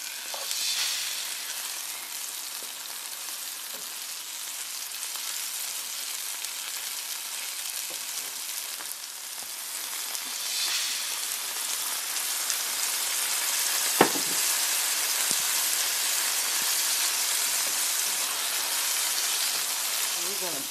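Caramelized onion and garlic with thyme and dill sizzle steadily in a pan for French onion soup, a bright, continuous close frying hiss with an occasional stir.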